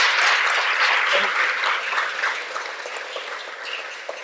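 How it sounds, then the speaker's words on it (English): An audience claps loudly at first, the applause thinning and fading over a few seconds. "Please give her a hand of applause."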